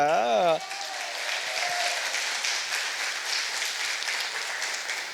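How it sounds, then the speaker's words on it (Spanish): A church congregation claps steadily after a brief spoken phrase at the start, a dense, even applause sustained for several seconds at moderate loudness. "Démosle un fuerte aplauso a Angie"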